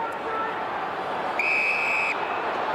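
Umpire's whistle at an Australian football match between Melbourne and Port Adelaide, one sustained shrill blast of under a second over crowd murmur and commentary.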